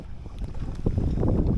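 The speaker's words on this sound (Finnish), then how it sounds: "Nyt meillä tosiaan tuulee niinku" Wind gusts across an open lake with a small boat on the water, a steady rumbling wash of air and water that grows louder and fuller midway, with no voices.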